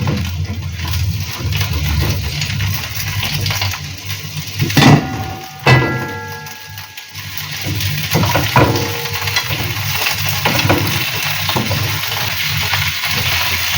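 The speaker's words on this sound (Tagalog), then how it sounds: "Okay, gisa natin." Long cabbage sautés in a hot pan, a continuous sizzle with a few sharper clatters of utensil against metal and no speech.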